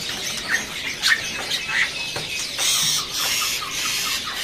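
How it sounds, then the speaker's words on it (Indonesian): Black-winged starling calls: a series of short, bright chirps and squeaky whistles repeating irregularly, fairly close, with a faint noisy bird market background and no speech. "Di sini ada juga burung jalak putih ya."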